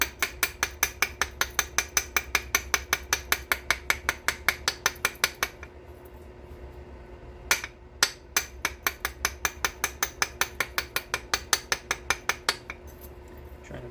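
Stone abrader rasping the base of a novaculite flint Dalton point during knapping: a fast, steady run of sharp scraping strokes, close and fairly loud, with a brief pause midway before the rhythmic strokes resume.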